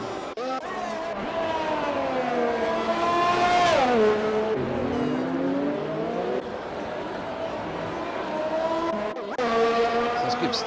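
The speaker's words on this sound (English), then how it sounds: "Ferrari flies on through." A Ferrari race car on a racing circuit in Vietnam sweeps past with a loud sustained engine whine that dips in pitch as it goes by, then climbs again as the engine revs back up, with a commentator talking over it.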